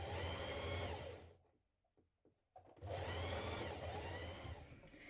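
A sewing machine runs fast and loud while basting around a trouser pocket facing, one long burst, then a pause with a few clicks and handling noises before it whirs again steadily to the end.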